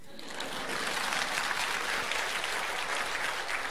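A church congregation claps in steady, dense, fairly loud applause that fills the room for nearly four seconds without a break.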